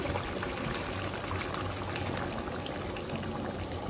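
Hot water goes into a pan of rohu fish curry and hisses and bubbles in a steady, close, moderately quiet seethe that lasts the whole moment without pause.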